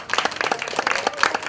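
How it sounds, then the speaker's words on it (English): A small outdoor audience at a campsite folk concert claps for a banjo player, a loose scatter of individual claps with distinct separate hits rather than a full roar, moderately close and without talk. "you're applauding me tuning my banjo"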